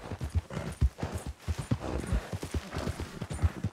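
Horse hooves clip-clop at a steady walking rhythm in Red Dead Redemption 2, close and fairly loud, with faint voice sounds underneath.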